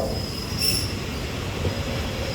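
An Alsthom 4222 locomotive hauling Thai commuter train No. 341 slows into Chiang Rak station, giving a steady low rumble with a thin, high wheel squeal that swells briefly and fades.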